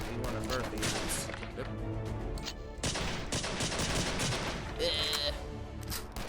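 Sniper and weapon fire in the Sift Heads World Act 4 video game, with dense, loud shots and bursts running continuously throughout, over busy game sound effects.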